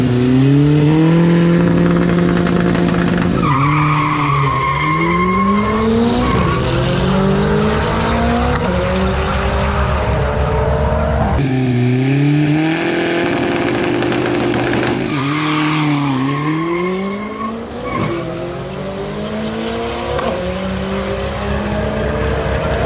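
A VW Gol 4x4 street car launches hard at a drag strip, engine revving loudly through rising gear pulls with tires squealing, continuous and close, with a brief shift break midway.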